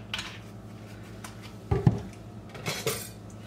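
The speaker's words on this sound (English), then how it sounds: "Stir it up." Wheat berries stirred with white vinegar in a metal pot, with a spoon scraping and clinking against the sides in a few separate bursts, close up and fairly quiet, with no talking.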